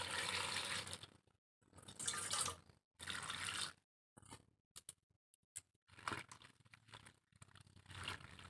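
Vegetables are rinsed under running tap water in a kitchen, giving several close bursts of splashing and pouring separated by short pauses.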